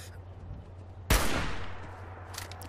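A single sharp gunshot in the video game Fallout 4, near and loud, with its echo fading over about a second against a low humming backdrop.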